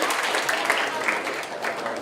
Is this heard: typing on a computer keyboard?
no